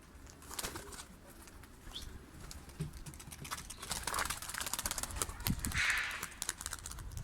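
Çorum tumbler pigeons beat their wings in quick, irregular bursts of soft fluttering patter, building to a denser flurry late on, fairly faint and without talk.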